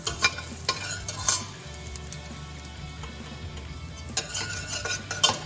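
Cauliflower soup base cooks in a pot, a low sizzle under intermittent scraping stirs and light clinks of a utensil against the pot, with bursts of activity at the start and end.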